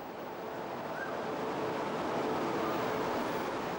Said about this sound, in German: Ausfahrt für einen Zug der Höllentalbahn nach Seebruck.